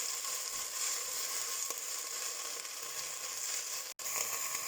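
Kale hitting a hot pan in a Gujarati-style sukuma preparation, giving a steady, close hiss of frying that holds level throughout, broken by a brief drop near the end.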